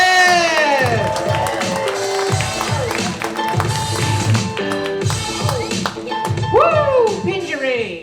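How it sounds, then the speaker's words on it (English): A comedy club audience claps and cheers to welcome a stand-up comedian on stage, a loud, dense roar of clapping and whoops while an excited voice shouts over it near the end. "I'll start a massive round of applause"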